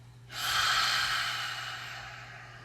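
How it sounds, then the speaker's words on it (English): A single slow exhale pushed out through pursed lips, rising quickly into a soft, airy hiss that holds steady and gently fades over about two seconds, close and quiet with no talking. "Breathing through your lips like a straw, maybe making a whistling sound"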